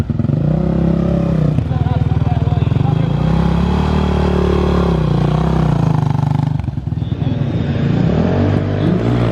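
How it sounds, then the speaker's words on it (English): A dirt bike engine runs loud and close, revving up and down repeatedly with a rough, buzzy exhaust note and a brief dip before rising again, with voices faintly underneath. "I'm gonna go run my bike"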